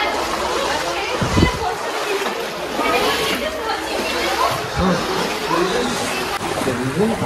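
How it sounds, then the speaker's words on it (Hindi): Water falls and sloshes inside Robbers Cave (Guchhupani), a steady splashing rush that echoes close by, with distant chatter of people in the background and a couple of low thumps. "तो यहाँ देख सकते हैं यहाँ पर से पानी गिर रही है।"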